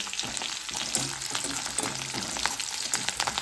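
Cumin seeds and curry leaves sizzle and crackle in hot oil in a kadhai during tempering, a steady close frying hiss with scattered pops and the scrape of stirring.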